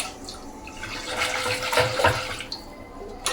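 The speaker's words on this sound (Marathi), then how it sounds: "रवी पण लगेचच गरम पाण्यामध्ये वॉश करायची" Running water splashes and gurgles from a tap as a wooden butter-churning stick is rinsed beneath it in hot water, rising and falling close by, with no voices.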